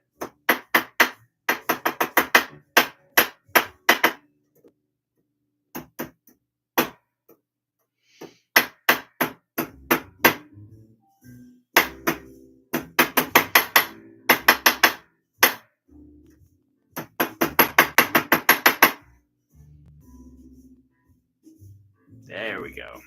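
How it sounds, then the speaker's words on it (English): Bursts of quick, sharp metallic hammer taps on a wire-wrapped jewelry frame in rapid runs, pausing between volleys, close and fairly loud, with brief low rumbles between. "I might smack on it with a hammer a little bit"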